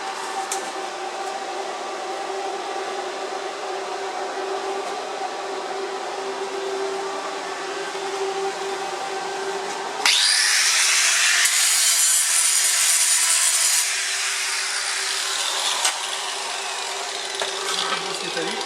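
An angle grinder works a MAG weld bead on a butt joint welded in the horizontal position. A steady whining drone runs throughout, then turns to a louder, harsher hiss as the disc bites the metal, with speech underneath.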